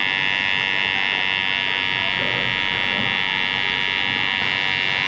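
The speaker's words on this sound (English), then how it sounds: "These a normal size clipper, so you can take a lot of nice weight out without putting too much strain on the clipper" A normal-size electric hair clipper buzzes steadily and continuously at close range while lining up the edge of a skin fade in a barbershop, holding a constant high-pitched drone throughout.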